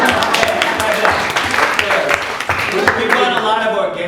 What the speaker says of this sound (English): We got a lot of organic applause during this.